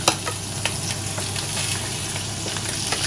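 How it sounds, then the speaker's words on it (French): Chicken pieces frying skin side down in a pan for a ginger and butternut dish, a steady close sizzle with scattered spitting pops throughout. "On va les colorer côté peau."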